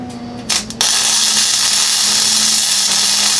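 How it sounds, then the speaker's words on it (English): A welder tack-welds a bolt onto a scrap go kart frame for a rat rod build, a short sputter followed by a loud, continuous crackling hiss held close up, with no talking. "So we'll just go ahead and weld it."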